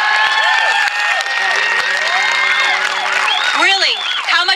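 A crowd at a Tea Party rally cheers and whoops loudly, with many overlapping shouts and high rising yells filling the space close and continuous.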